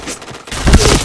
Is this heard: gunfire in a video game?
yes